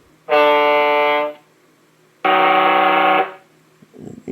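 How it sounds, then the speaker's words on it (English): Two long, loud blasts from an RC truck sound module's air horn, each about a second, separated by a pause, followed by faint clicks. "Two different kinds of horns."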